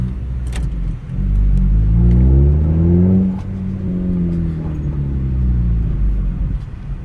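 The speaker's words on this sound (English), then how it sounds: "Now that we're on the road, let's give it some gas." A 9th-generation Honda Civic with a K-series engine accelerates on the road, its engine note rising in pitch as it revs through the gears, heard steadily from inside the car.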